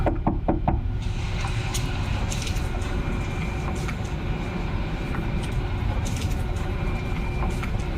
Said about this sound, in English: he attempts to communicate with the spirit by knocking on a nearby wooden door